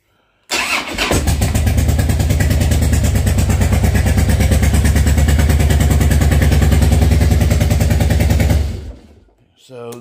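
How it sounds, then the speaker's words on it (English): A Harley-Davidson FLSTF motorcycle engine runs on only one cylinder, a loud, close, uneven thumping idle that starts abruptly and holds for about eight seconds before cutting off. "Still running on one cylinder."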